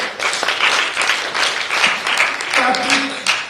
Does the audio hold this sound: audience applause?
yes